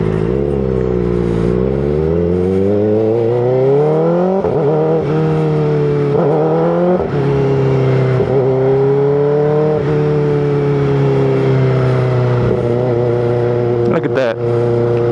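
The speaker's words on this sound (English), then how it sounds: "Look at that. An Audi R8. A nice little Audi." An Audi R8 sports car revving loudly nearby, its engine note climbing and shifting repeatedly over about fifteen seconds, with people talking underneath.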